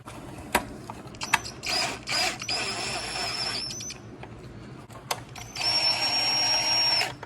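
A power tool tightens headlight bolts during a Jeep LED halo headlight install, whirring in several short bursts and then two longer runs, close up, with small clicks between.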